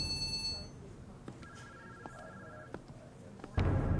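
A telephone ringing in a TV drama scene, faint tonal ring bursts at a moderate distance over quiet room noise, followed by a louder sound at the end.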